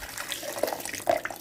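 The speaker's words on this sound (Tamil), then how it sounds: "இதில் கொஞ்சம் சுடுதண்ணி வந்து ஊற்றிக்கோங்க." Hot water is poured into a mixer jar, giving a short, close splash and gurgle of liquid with no talking.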